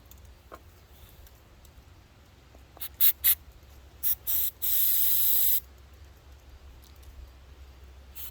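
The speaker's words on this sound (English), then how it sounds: "Looks like spraying one hole, it's coming out the hole" Short hissing spurts of carburetor cleaner from an aerosol can into a Honda Rancher ATV carburetor, followed by one longer continuous spray, loud and close against a quiet background.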